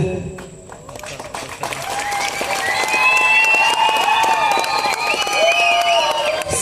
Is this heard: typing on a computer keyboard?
no